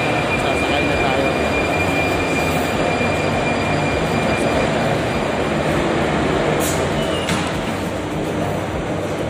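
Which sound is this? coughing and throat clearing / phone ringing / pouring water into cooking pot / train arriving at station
train arriving at station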